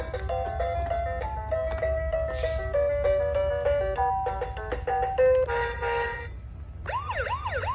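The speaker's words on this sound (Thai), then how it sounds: "ลงเยอะนะคะเสียงดนตรีเยอะเวลาหมุนล้อเขาก็จะหมุนด้วยนะคะ" A toy excavator plays a tinny electronic jingle note by note, then switches to a warbling siren-like wail near the end.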